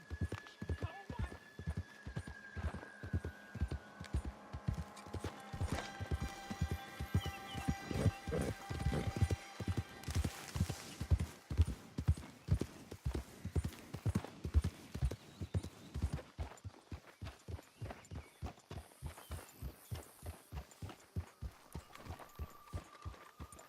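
A horse's hooves clip-clop in a steady, fast rhythm throughout in Red Dead Redemption 2, close and prominent, slowing briefly midway, with faint in-game ambience underneath.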